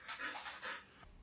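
A puppy pants in quick breathy puffs up close, a brief soft sequence, while rain keeps her from going outside.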